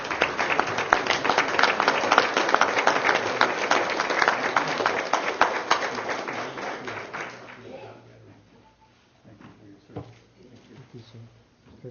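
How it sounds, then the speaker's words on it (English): An audience at a tribal council meeting applauds, with steady, full clapping for several seconds before it fades out, followed by a quieter room with faint sounds. "Give him a round of applause."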